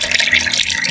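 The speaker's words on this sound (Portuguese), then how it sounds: "Agora eu vou colocar água aqui." Water pours steadily into a container to thin out cassava starch, a continuous close-up splashing stream with no voices over it.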